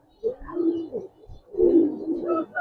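Pigeons cooing in a loft of Giribaz and coloured pigeons in Narayanganj, with soft, low, throaty coos in two close bursts.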